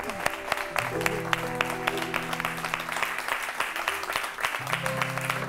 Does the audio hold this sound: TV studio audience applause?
yes